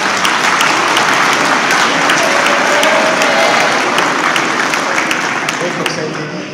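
Sustained, dense applause fills an outdoor gendarme school ceremony as the crowd claps for the instructors, loud and steady before tapering slightly at the end.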